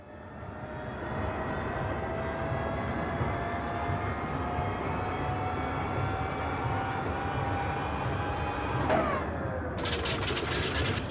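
Boeing 247D left engine starting up in Microsoft Flight Simulator, a loud steady rising mechanical whine and drone of the cranking engine, followed near the end by a rapid rattling burst as it catches.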